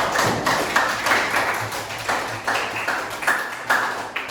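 A classroom group claps for group 2's presentation in a rhythmic, evenly spaced pattern of sharp claps repeating about twice a second, fairly soft and without talking over it.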